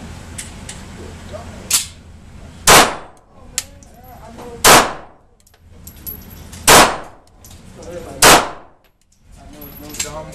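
A Kahr P380 pistol fires five sharp, loud shots spaced about two seconds apart, each ending in a short ringing decay, with faint handling clatter between them.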